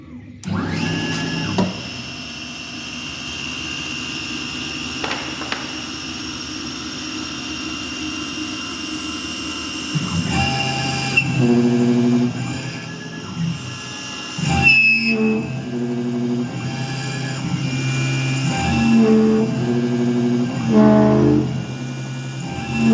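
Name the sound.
Langmuir MR-1 CNC mill machining a steel part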